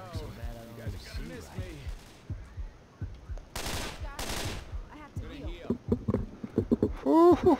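Machine gun fire in Left 4 Dead 2, with two dense bursts of rapid shots in the middle, set among scattered game effects and voices talking over most of the stretch.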